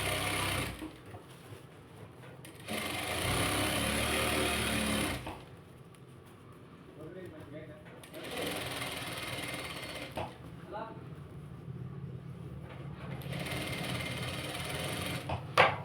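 A sewing machine runs in long, steady bursts, stitching thread piping around the edge of fabric. Near, loud whirring stretches alternate with quieter gaps, and a voice speaks between the runs.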